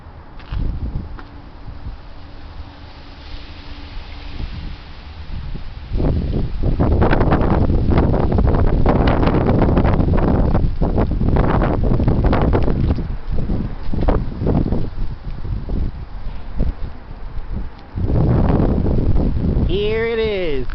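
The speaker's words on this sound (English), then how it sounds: "The heavy wind." Strong wind buffets an open microphone, a continuous roaring rumble that swells and gusts, heaviest through the middle and near the end, with no other sound standing out.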